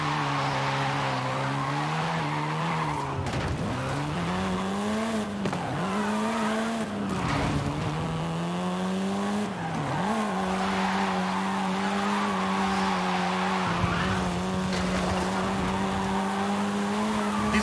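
A 7th-generation Volkswagen Golf R races in Forza Horizon 5, its engine droning steadily at high revs while its tires squeal and skid repeatedly through corners, close and loud, with pitch dips as it shifts.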